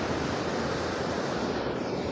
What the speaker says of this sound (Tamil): தண்ணி அப்படியே வந்து கொப்பளிச்சிக்கிட்டு போயிட்டுருக்கு வெளியே